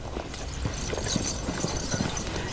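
Several riding horses approach with steady overlapping clip-clop of hooves, moderately loud and continuous, under a background of low ambient noise.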